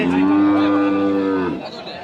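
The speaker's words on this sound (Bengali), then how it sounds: "এখানে একটি গরু টেনে নিয়ে যাচ্ছেন" A meat cow being pulled along at a rural cattle market, letting out one long, loud, close moo that fades after about a second and a half.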